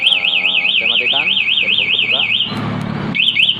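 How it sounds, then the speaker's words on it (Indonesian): A loud electronic security alarm on a Honda Tiger Revo motorcycle wails in a rapid warbling pattern, cuts out briefly while a voice and rustling are heard, then resumes. "alarm tetap akan berbunyi keras dan motor tidak bisa dihidupkan sama sekali"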